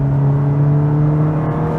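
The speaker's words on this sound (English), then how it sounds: "I love the upshift farts" VW MK5 Golf GTI engine under acceleration, a loud close steady drone with a strong low hum and a brief dip near the end suggesting a quick upshift.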